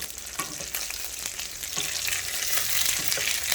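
Onion fries in oil in a pan over medium heat, a bright crackling sizzle that swells gradually, with a few stirring scrapes early on and no talking.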